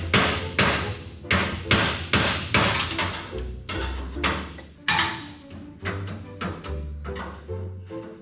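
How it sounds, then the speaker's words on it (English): Repeated hammer blows strike a metal part on a 1954 Chevy 3100 pickup during a radiator mock-up, about a dozen loud, close, sharp impacts in an uneven rhythm, with no talking. "We wailed on it with a hammer, and it surprisingly does not want to come up."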